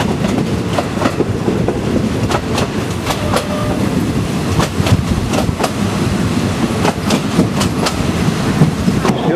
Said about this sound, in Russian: немножечко, помедленнее поезд пошел